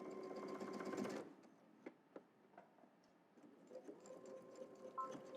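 A sewing machine runs in a steady, loud burst of rapid stitching for about a second while working on a Know Me ME2118 sewing pattern, then stops, leaving faint scattered clicks and handling noises.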